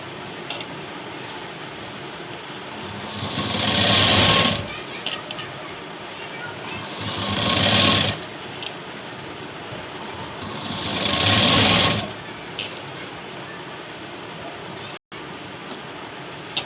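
Sewing machine stitching a folded fabric strip for piping. It runs in three bursts of about a second each, evenly spaced, over a quiet room background with no talking.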